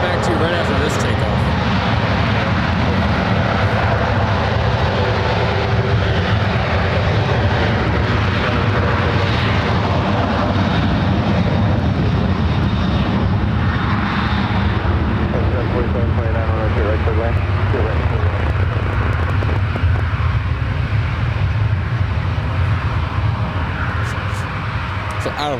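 An airliner taking off at San Francisco International Airport, a loud sustained jet engine roar that fills the whole span and swells and rumbles steadily, with people talking faintly underneath.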